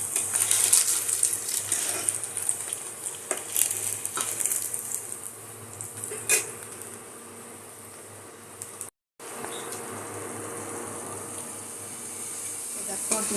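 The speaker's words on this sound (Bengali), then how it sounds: "মশলা দিয়ে ডিমটা কষে নিচ্ছি।" Eggs sauté with spices in a hot pan, giving a continuous, crackling sizzle that stays steady throughout, dips briefly to silence partway, then resumes at a similar level.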